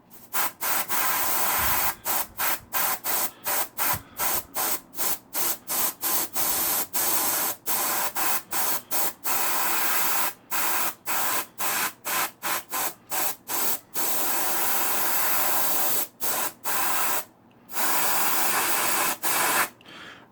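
An airbrush sprays candy red paint in many short, close hissing bursts separated by brief pauses, with a few longer continuous passes.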